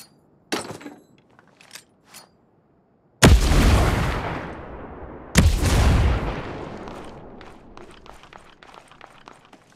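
Two loud bursts of gunfire in the shooter game Ghost Recon Breakpoint, each with a sharp attack and a long rumbling decay, preceded by a few faint clicks and footsteps.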